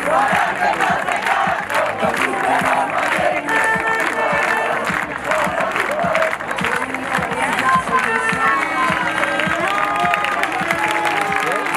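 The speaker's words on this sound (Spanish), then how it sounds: "Fuerte aplauso para las tripulaciones que abandonan ya el campo de regatas" Spectators at a regatta in Castro Urdiales applaud rowing crews as they leave the course, a sustained loud mix of clapping, cheering and shouts from a large outdoor crowd, with voices throughout.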